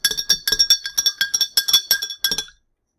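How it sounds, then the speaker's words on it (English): A rod or spoon stirs a solution in a glass container, giving a quick, bright series of clinks in an uneven rhythm that stops abruptly, close and clear with no talking. "Okay, we'll give it one last stir here."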